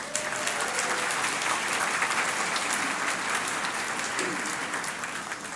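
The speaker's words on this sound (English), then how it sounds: "Give yourself a round of applause." A crowd of university graduates gives a steady round of applause at a graduation ceremony, dense sustained clapping from many hands that fills the hall and slowly tapers near the end.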